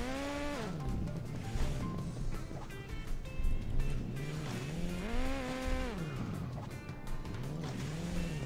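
A motorcycle engine in Hill Climb Racing 2 revs up and down in repeated rising and falling whines, steady and fairly close, with gear-like pitch swoops throughout.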